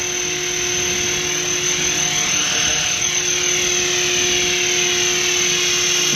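Scale AS-350 radio-controlled helicopter with a flybarless head hovering outdoors at about 1500 RPM, giving a continuous, even rotor and motor whine with a high steady tone and constant loudness throughout.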